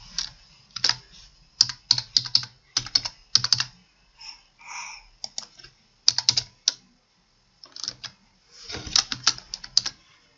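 Someone types one-handed on a computer keyboard, soft close key clicks arriving in short irregular bursts with pauses between them, no voices.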